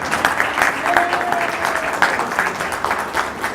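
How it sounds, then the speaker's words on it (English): An audience at a VIA Board of Trustees meeting applauds for the transit staff, with loud, close, steady clapping lasting a few seconds and a faint murmur of voices underneath. "And please go ahead and applaud."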